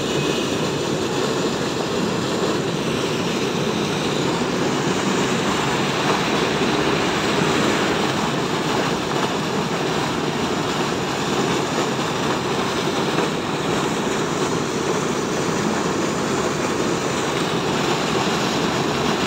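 Pumping station engine running with water discharging, heard as a steady, dense, continuous roar and rush with no breaks for the whole stretch.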